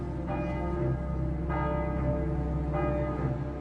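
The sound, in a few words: church bells of Saint-Germain-l'Auxerrois ringing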